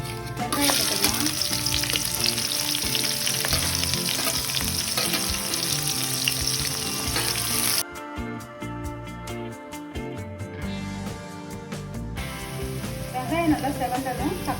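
Onion with bay leaf, cinnamon, cloves and a cardamom pod sizzles loudly in hot oil for a pepper chicken fry, a dense crackling hiss with stirring that briefly thins midway before surging again, and a voice talks over it.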